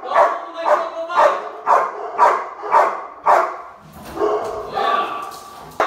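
A dog barks in a fast, even series of about eight loud, close barks, then shifts to rougher, whining yelps at the end.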